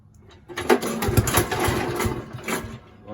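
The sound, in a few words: Little Wonder 13HP high output blower engine running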